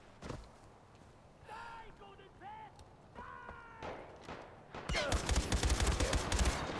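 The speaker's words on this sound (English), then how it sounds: "that's a minigun getting shot at me" A minigun in Far Cry 4 opens up in the last couple of seconds as a loud, rapid, continuous burst, after calls and movement sounds, with no one talking over it.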